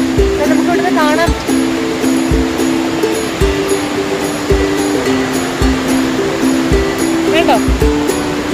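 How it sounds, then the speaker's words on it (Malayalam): Rushing water of the Manneera waterfall near Adavi pours in a steady, dense roar throughout, with a low droning tone running underneath and faint voices now and then. "നമ്മളിപ്പോ മണ്ണീറ വെള്ളച്ചാട്ടത്തിന് അവിടെ എത്തിയിരിക്കുകയാണ്."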